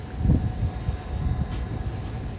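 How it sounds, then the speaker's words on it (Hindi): Express train on a single line through the Thar Desert in Rajasthan crossing the Bhavnagar Terminus–Haridwar Express, a low rumbling rattle of wheels and cars, close and steady. "यहाँ पे अभी हम क्रॉस करने वाले हैं भावनगर टर्मिनस हरिद्वार एक्सप्रेस को"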